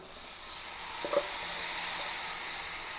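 Long beans (achinga) dropped into a hot pan with chilli powder, giving a steady soft sizzle and hiss throughout, with a brief stirring clink near the middle, fairly quiet and close.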